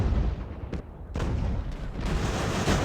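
Booming cannon fire from 6 and 8 pounder guns in the naval game Ultimate Admiral: Age of Sail, with loud, dense blasts in quick succession and rumbling over continuous battle noise.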